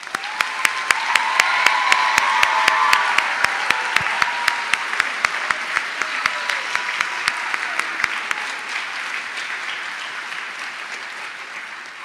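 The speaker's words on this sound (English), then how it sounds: "Let's give our graduates one more round of applause." An audience applauds graduates at a community college commencement, sustained loud clapping from a large crowd that peaks early and slowly tapers off, with sharp individual claps standing out over the wash.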